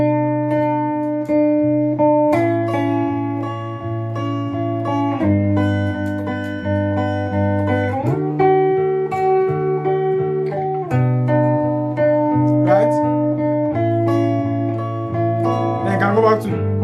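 A worship-style guitar lead line of single notes played over sustained chords, a steady flowing melody with shifting pitches, close and fairly loud with no talking.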